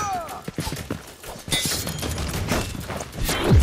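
Gunshots in the stealth-action video game Dishonored 2 fired in the middle of a violent fight, a few sharp close blasts mixed with thuds and game effects, with talk over parts of the scene.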